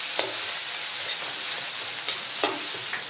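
Green and red peppers stir-fried in a wok with chili sauce, scallion, ginger, garlic and dried chilies, a steady loud sizzle with a few sharp scraping stir strokes of the spatula.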